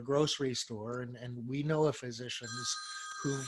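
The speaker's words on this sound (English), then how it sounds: "sorry, that's my phone, gotta turn it off." A mobile phone ringtone chimes in briefly near the end, a sustained electronic tone entering under and after a man's speech, moderately loud and close.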